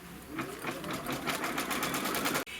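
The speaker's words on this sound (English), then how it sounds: "we're going to stitch off the placement line for our batting first" An embroidery machine stitches the batting placement line on a quilt block: a fast, steady, close mechanical whir of needle strokes that runs evenly and then stops abruptly near the end.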